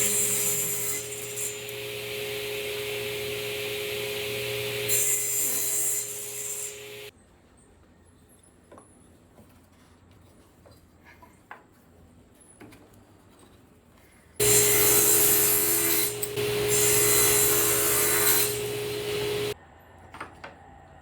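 White oak scraps are machined down in thickness, a loud steady whining cut for several seconds, then a long quiet gap with faint handling knocks, followed by a second equally loud pass.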